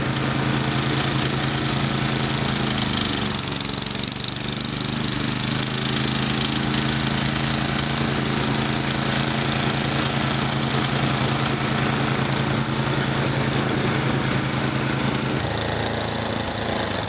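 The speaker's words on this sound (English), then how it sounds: "Thank goodness for the snowblower." A snowblower engine runs steadily throughout during a heavy snowstorm, a loud continuous mechanical drone with a faint change in pitch near the end.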